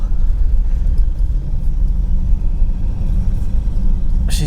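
A cold 1984 Chevy Citation engine runs at idle, a loud, rough, steady low rumble close by that holds throughout.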